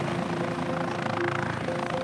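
A helicopter drones steadily and loudly through the whole stretch, its rotor and engine noise continuous as if hovering close by during a Mexican wolf capture operation in Arizona.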